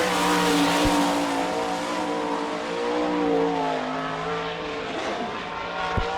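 A Holbrook Racing number 8 race car on a speedway at an All Star Circuit of Champions event in Sarver, PA, its engine roaring loud and steady with a droning pitch that sags and rises as it runs by.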